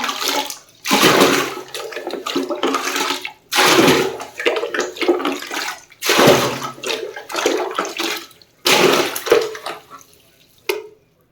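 Water runs from a tap into a bucket, a steady rushing splash in several long bursts with short breaks, close by and fairly loud, with no talking.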